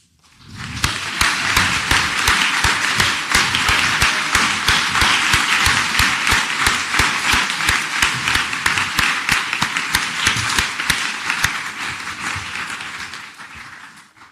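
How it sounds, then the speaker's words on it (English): Audience applause for graduates of a furniture making and architectural woodworking class at a university conferring ceremony, dense sustained clapping from a large crowd that rises quickly, holds steady and fades out near the end. "Can I call on the graduates of the Bachelor in Science in Furniture Making and Architectural Woodworking class to please stand for your"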